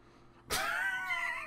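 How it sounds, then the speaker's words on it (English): A stray cat lets out one drawn-out, wavering meow after a moment of quiet. It sounds fairly close and clear, with no talking over it. "there's a weird fucking stray cat outside"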